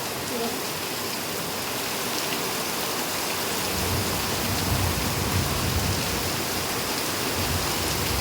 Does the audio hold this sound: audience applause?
no